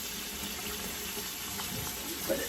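Chilis rinsed off under a running kitchen tap, a steady close hiss of flowing water splashing into a sink, with faint handling bumps near the end.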